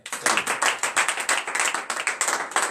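Church congregation at a morning prayer service in Benin claps in rhythmic acclamation, fast steady hand claps in regular pulses, close and loud, with no talking.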